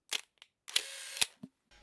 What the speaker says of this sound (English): you press on the shutter once and it advances to the first picture